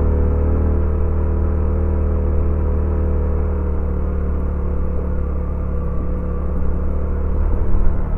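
Motorcycle laboring uphill in second gear on a steep road, a steady close low engine drone that drops slightly in pitch partway through, with a brief rise at the end and no talk.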